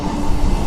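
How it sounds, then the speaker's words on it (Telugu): A MEMU passenger train on the Renigunta–Nellore line sits at a station platform, its loud, steady low rumble filling the brief moment with no break. "ఇవాళ చూసుకుంటే మన ట్రైన్ వచ్చేసి ప్లాట్ఫామ్ నెంబర్ 1కి అయితే వచ్చింది."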